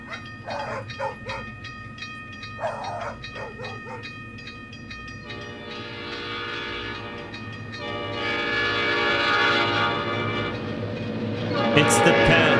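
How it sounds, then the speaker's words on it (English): A train passes at a station as a sound effect near the close of an album: a loud, sustained rumble and horn tones swell and build over the instrumental ending, with dog barks mixed in. "Oh, we're at a train station now?"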